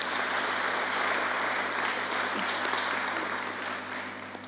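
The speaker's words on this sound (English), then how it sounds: "kindly just give them a round of applause" Steady, dense applause from a gathered crowd honoring supportive friends at a memorial-style gathering, sustained and fairly even throughout with no break, slightly thinning toward the end.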